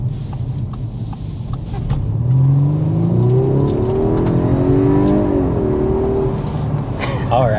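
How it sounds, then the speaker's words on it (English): 2024 Audi A5 Sportback with a turbocharged four-cylinder under hard acceleration to 55 mph, heard from the cabin as a steady engine drone that rises in pitch through the gears and holds loud throughout. "there is a quick punch of the throttle up to 55 miles per hour in the A5 Sportback"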